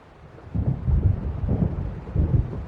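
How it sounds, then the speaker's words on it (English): Thunder rolls in a stormy setting from the video game Alan Wake Remastered, a deep low rumbling that swells in several heavy waves over a soft rain-like hiss, no voices. "It seems there's a storm coming."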